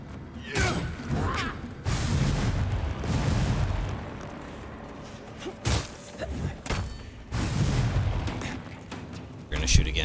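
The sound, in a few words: shooting in the video game Lords of the Fallen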